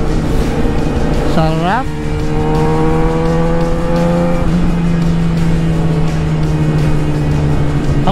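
Motorcycles, among them a Suzuki GSX 1000 GT, ride past close by on a group ride near Laurel, Batangas. Engine tones rise and then drop as they pass, loud over steady wind rush, with a short spoken word.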